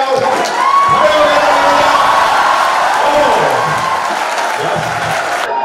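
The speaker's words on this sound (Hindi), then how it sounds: "ताली बजाओ" At a college freshers' party, a large crowd claps and cheers loudly and continuously, with whoops and shouting voices over dense applause that fills the hall.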